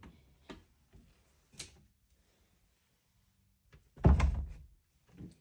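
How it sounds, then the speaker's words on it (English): A pantry door that sticks because it is not level in a house walkthrough: a few light knocks, then a loud scraping thump as the door is forced, followed by a softer bump, all close by in a quiet room. "with this door, it's getting stuck because it's not level"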